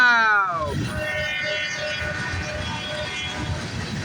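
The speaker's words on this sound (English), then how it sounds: "Horn salute." A CSX train horn salute sounds loudly at the start, a sustained chord that stops within a second and gives way to the rumbling and clattering of the passing train, with voices reacting nearby.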